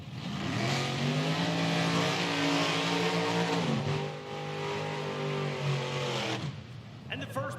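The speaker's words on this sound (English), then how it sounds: "And the first pair complete the burnouts, Jordan Odoms and Scotty Reinshield" Drag racing cars doing burnouts in Hot Rod Eliminator at an IHRA Outlaw Nitro Series Pro-Am event in Michigan: a loud, sustained engine roar with a shift in pitch midway, fading out near the end, with an announcer's voice over it.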